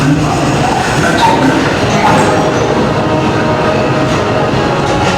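The Walt Disney World Railroad train at Magic Kingdom rumbles along the tracks, loud and steady throughout, with dense rolling noise and faint clattering from the wheels.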